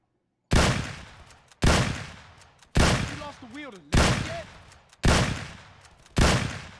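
Gunfire in Grand Theft Auto San Andreas Definitive Edition on PC: six loud, evenly spaced single shots, each with a sharp crack and a decaying tail, one stretch overlaid by a brief voice.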